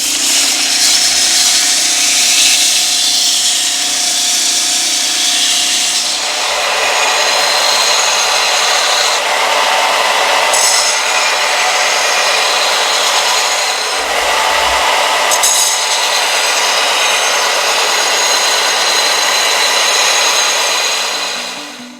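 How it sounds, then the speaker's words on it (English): A power sander grinds steadily on a forged hunting knife blade, a loud continuous high whirring drone that shifts slightly in pitch as pressure changes, with no talk. "So lots more sanding to do to get all the pits out and stuff,"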